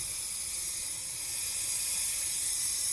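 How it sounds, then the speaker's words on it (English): A Gold Star Tools steam iron used for quilt binding lets out a steady, loud, close hiss of steam that holds for about three seconds and swells slightly toward the end, alone with no voices. "It's a steam iron."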